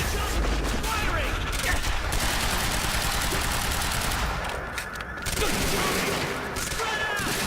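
Dense gunfire in the Quantum Break video game, sustained rapid automatic bursts that are loud and continuous, briefly easing near the middle before resuming.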